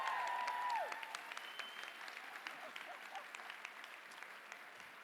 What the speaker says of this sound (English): How about another round of applause for those great kids?